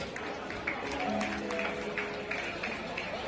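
Steady clapping from wedding guests welcoming a singer, a dense, continuous patter mixed with crowd noise and music.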